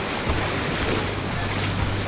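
Waves in a water park wave pool wash and churn in a continuous broad surge, loud and close, with a low rumble underneath and a few voices in the background.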